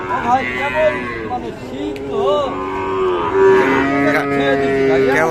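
Cattle at a rural livestock market where Indian Gir and Sahiwal bulls and calves are sold: repeated loud, drawn-out moos rise and fall close by, overlapping one another against the busy background murmur of the market crowd.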